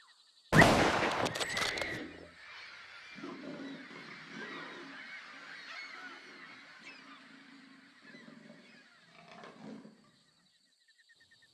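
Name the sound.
rifle shot at a leopard in a tree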